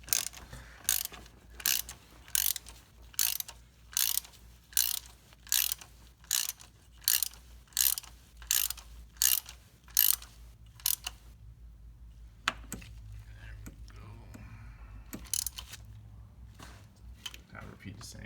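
A ratchet tightens rocker arm bolts on an LT1 V8 in a 2017 Camaro SS 1LE, giving a regular run of about a dozen crisp, close clicking bursts, then a few scattered clicks over low background hum.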